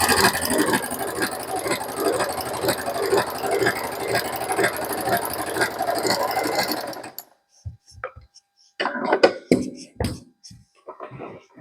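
Sewing machine with a ruffler foot set to 6, stitching fabric into frills and pleats: a steady, rapid mechanical chatter for about seven seconds, then stopping, followed by scattered handling clicks and rustles.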